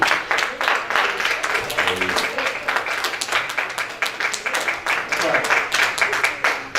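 A church congregation claps during a sermon, with uneven individual hand claps that quicken into a rhythmic beat, while voices call out over the clapping throughout.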